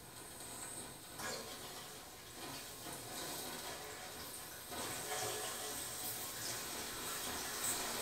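A toilet tank refilling after its water supply valve is slowly turned back on in a renovated bathroom, a faint steady watery hiss and trickle that continues throughout, with no talk.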